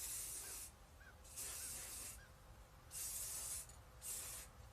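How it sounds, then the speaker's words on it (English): Spray paint from an aerosol can hitting cardboard on a homemade snowman decoration: four close hissing bursts, each about a second long, separated by short pauses. "your cardboard's really going to suck this spray paint up"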